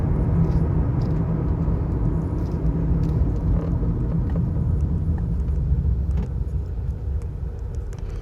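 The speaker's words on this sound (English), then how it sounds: "bear with me a second, I'm in traffic." Steady low road rumble of traffic heard from inside a moving car, a continuous droning hum with no break and no voices over it.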